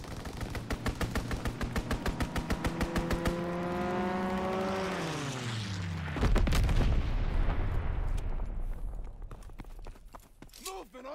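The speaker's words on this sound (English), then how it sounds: "Pilot inbound, strafing the target." Rapid aircraft strafing gunfire in Call of Duty, a dense stream of close, loud shots over the first few seconds, followed by a descending engine-like whine as the plane passes and a low rumbling roar that fades toward the end.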